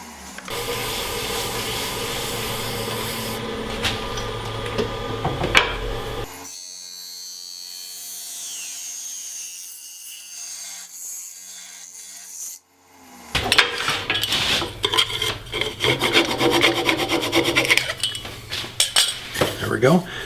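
Sanding the edge of a wooden pocket mirror spinning on a woodturning lathe, a loud raspy scraping whir that drops to a quiet hum for several seconds, then returns in harsher, rougher bursts.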